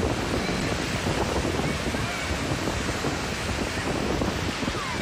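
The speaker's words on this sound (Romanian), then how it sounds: "Vântul puternic, valurile înalte și curenții periculoși de la malul mării" Strong wind and high sea waves pound the shore at Eforie on the Black Sea coast, a loud, steady roar of surf and gusting wind buffeting the microphone without pause.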